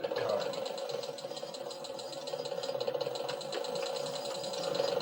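A sewing machine stitches a 10x10 round-bottom leather saddle bag with a steady rapid mechanical rattle, close and continuous. People talk over it.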